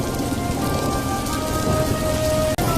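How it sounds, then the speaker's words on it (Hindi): Steady rain pours down onto a surface, a dense continuous patter, with a low rumble of thunder in the background. "अरे ये क्या, बारिश शुरू हो गई।"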